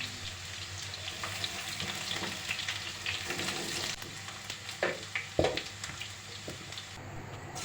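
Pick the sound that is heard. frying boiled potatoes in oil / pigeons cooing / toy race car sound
frying boiled potatoes in oil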